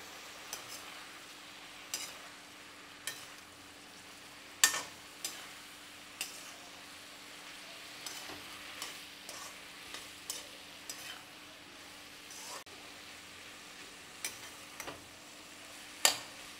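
Vegetables coated in red chili powder cook in a pan with a steady low sizzle, broken by scattered sharp scrapes and taps of a spoon stirring, fairly quiet and close, with no talking.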